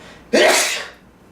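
A single sharp human sneeze bursts out suddenly after a brief quiet moment and then fades fast, sounding close and loud during a casual conversation.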